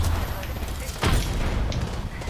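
A frag grenade goes off in the shooter game Apex Legends, a single sharp boom about halfway through amid busy gameplay noise.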